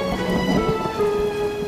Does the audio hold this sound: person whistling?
no